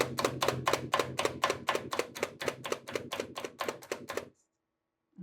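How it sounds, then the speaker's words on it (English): A Pampered Chef rotating-blade food chopper chops rapidly and steadily, about a dozen loud, close, even strikes in a row with no talk, then it stops abruptly into silence. "Love how that blade rotates"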